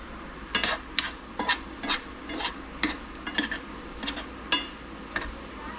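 Apples cooking down in a pot with a heavy pot pressed on top, giving a soft bubbling sizzle punctuated by roughly a dozen short scraping or clinking bursts at an irregular pace, close and moderately quiet.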